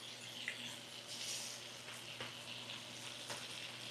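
Flour-battered lobster pieces fry in a hot pan with a steady, soft sizzle and a low hum underneath, plus a few faint clicks and scrapes, with no voices.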